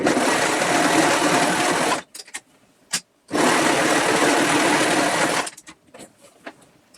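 A sewing machine stitches seams on a rough backpack prototype in two long, loud, steady runs of about two and three seconds, separated by a short pause with a brief burst, then trailing off into small handling noises.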